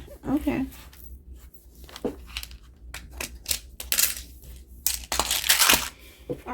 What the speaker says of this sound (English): All right, 3 shuffles, and we will take 3 cards on the top.